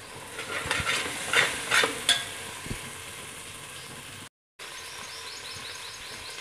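Fresh ginger and garlic fry in a pan for fish biryani, a steady sizzle with a few scraping stirs near the start, then a softer continuous hiss after a brief dropout, with no voices.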